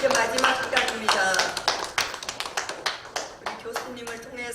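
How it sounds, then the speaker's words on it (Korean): Audience applause in a church gathering welcoming a speaker, brisk rhythmic clapping from a crowd that starts dense and thins into spaced claps, with a voice talking over it. "할렐루야 박수로 모시겠습니다."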